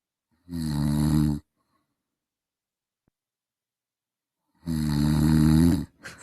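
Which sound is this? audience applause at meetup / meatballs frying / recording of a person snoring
recording of a person snoring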